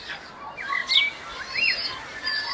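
Birds, a kak and a hen, chirping while being fed peanuts: several short, high chirps and tweets in quick bursts, fairly close, over a soft background hiss.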